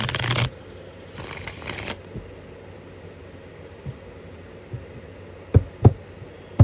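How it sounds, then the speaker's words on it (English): A deck of tarot cards is shuffled in a few short bursts of crisp riffling, close and fairly loud, followed by soft taps and knocks in a quiet room. "We're going to give this like 3 shuffles, then I'm going to be ready to pull from the deck some more."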